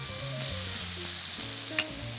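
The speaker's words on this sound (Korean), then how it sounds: "여기에 이제 밥을 한번 넣어보도록 할게요" Cooked rice goes into a pan of frying onion and minced garlic, giving a steady, moderate sizzle with a soft stir and a brief clink, while background music plays underneath.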